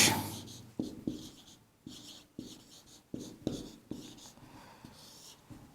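Chalk strokes on a classroom board during a Hindi literature lesson, a series of short scratchy taps and scrapes in uneven rhythm, close and fairly clear with no talk over them.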